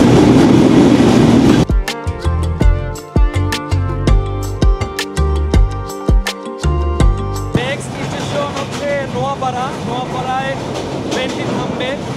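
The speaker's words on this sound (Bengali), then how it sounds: "ট্রেন এখন ফুল স্পিডে চলছে।" The Chitra Express runs at full speed with a loud, close rail rumble and clattering, mixed with sharp tonal sounds and rhythmic knocks midway.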